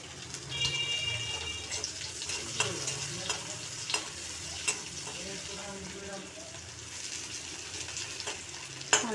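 Onion, garlic and green chili frying in a very small amount of oil for a hilsa fish tail mash, a steady close sizzle broken by scraping stirs and a few sharper clinks, with no talking.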